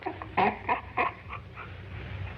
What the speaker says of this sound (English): Poor dog, get away from that.